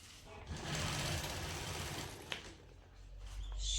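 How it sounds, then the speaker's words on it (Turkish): A sewing machine runs a steady, fast stitching whir close by while sewing a decorative pillow, holding continuous for about two seconds before easing off and building again toward the end. "Ve şu şekil bir dikiş atıyorum."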